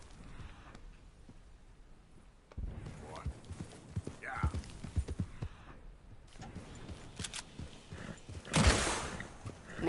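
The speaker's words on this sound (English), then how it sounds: "We are going to keep pushing our horse towards it, giving lots of encouragement." A horse's hooves clip-clop at a walk in Red Dead Redemption 2, a steady uneven patter of near hoofbeats under a voice, with a louder burst of noise near the end.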